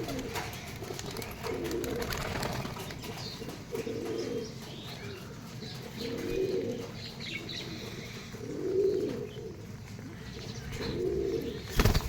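Pigeons coo in a loft in repeated soft, low rolling phrases every couple of seconds over a steady background hum, fairly near, with occasional faint chirps.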